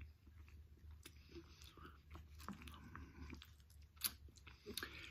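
Close, wet chewing and biting on a US military MRE meal, with soft mouth clicks and occasional sharper crunches repeating through the stretch against a low steady background hum, no talking.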